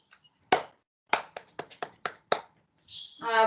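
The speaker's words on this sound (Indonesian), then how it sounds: "tepuk tangan dulu untuk jawabannya yang tadi" A small online class of eighth-grade English students claps for a classmate's answer, a sparse handful of separate, sharp claps spaced unevenly, followed by a voice starting to speak.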